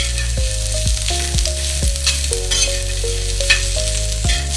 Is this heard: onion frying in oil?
yes